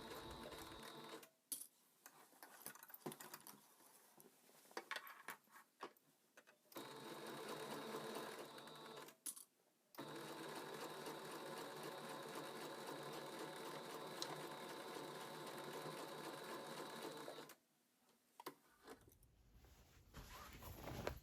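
A sewing machine stitches through four layers of fabric across the seams of a simple shopping tote, running in long steady bursts separated by brief pauses, close and fairly quiet.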